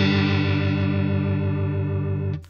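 Behringer UC200 Ultra Chorus pedal with the rate turned all the way up: a loud, sustained tone with a rapid wobbling shimmer that holds steady for over two seconds, then cuts off abruptly.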